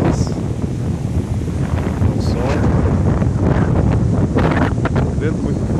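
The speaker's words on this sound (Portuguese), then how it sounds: "Vento muito forte hoje aqui." Strong wind blowing across rice fields at a fishing camp, roaring steadily into the microphone with heavy low rumble and buffeting, loud and continuous, with a voice faintly speaking beneath it.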